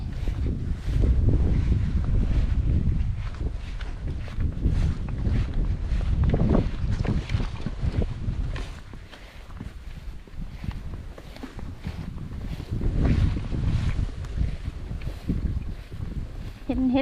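Wind gusts outdoors across a rural grassy area with cut grass, buffeting the microphone as a loud, steady low rumble that swells and eases throughout, with a person talking at times.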